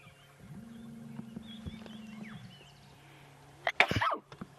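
A single sudden sneeze bursts out near the end on a sunrise safari, after quieter low animal-like rumbling and faint background sounds.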